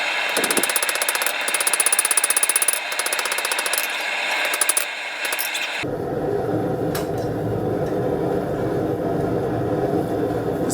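Hammer blows forging a knife blade, a rapid run of sharp metallic strikes for several seconds, then giving way to a steadier, lower droning noise.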